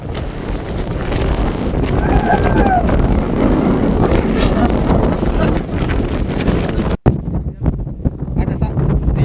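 Strong wind buffets the microphone on a mountain peak during a search for a crashed ATR 42-500 aircraft in Indonesia, a loud continuous roar that cuts off abruptly near the end, leaving a quieter gusty rumble.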